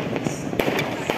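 New Year fireworks bursting in a residential neighbourhood, with several sharp pops and crackles in quick succession, some close and loud, against a dense background of distant bangs.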